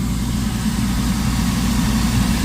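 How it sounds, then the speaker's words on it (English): A Trane commercial heating furnace burner in its purge cycle before ignition: a steady, loud low-pitched mechanical drone with a constant rumble, like a blower fan running evenly throughout with no talking. "So let's wait for it to go through its purge cycle, and then it's going to go into ignition."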